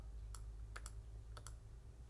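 Several sharp mouse clicks at a computer during a Cricut Design Space crafting session, heard as two quick double-click pairs and a single click, fairly close over steady low background hum.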